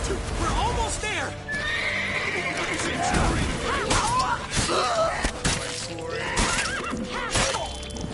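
A horse in The Witcher 3 video game gallops and neighs amid a busy game-chase soundscape, with hoofbeats running throughout and whinnies rising over shouting voices and clatter.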